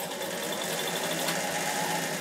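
A Bernina 840 sewing machine stitches decorative pattern number 17 in a steady, close, rapid mechanical whir that holds even throughout, with no talking.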